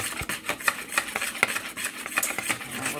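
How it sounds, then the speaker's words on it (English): A utensil clinks and scrapes in a bowl while stirring lumps out of vanilla pancake batter, with rhythmic taps and swishes, close and alone. "I'm gonna stir this"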